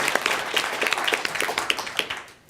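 Scattered applause from a small audience after a talk on personal branding, a thin patter of claps that fades out after a couple of seconds, fairly quiet and heard without speech.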